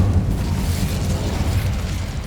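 In Hogwarts Legacy, the Incendio fire spell erupts in a loud, sustained booming, roaring burst of flame that fills the whole short moment with dense low rumble.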